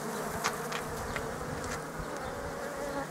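Dense, steady buzzing of many honey bees close by at an open hive, a continuous drone with a few individual bees zipping past.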